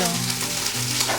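Oil sizzles steadily as Haitian rice and chicken sauce is stirred in a pan, a close, continuous frying hiss with soft scraping from the stirring.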